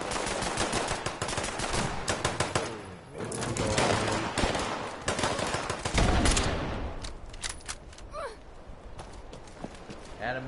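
Gunfire and a grenade blast from the video game Fallout 76 crackle through a dense, noisy game mix, with rapid shots and bursts layered over continuous background action for the whole stretch.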